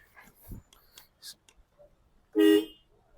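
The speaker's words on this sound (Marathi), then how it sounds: "छान असा तुम्हाला हॉर्न देण्यात आलेला आहे" A second-hand Mahindra Bolero sounds its car horn once in a short, loud, steady blast of about a third of a second, following quieter handling noises and light clicks.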